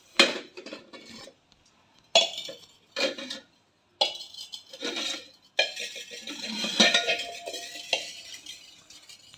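Pieces of a heavy, old five-piece stacked metal vessel set are handled, giving close metallic clanks, scrapes and clinks in separate bursts, with a longer run of rattling near the end.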